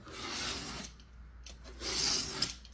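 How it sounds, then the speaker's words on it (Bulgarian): Coloured cardboard is cut by hand for small keychain boxes, giving soft rasping, rubbing strokes in two bursts close to the mic with a brief quieter gap between them. "Режа картони."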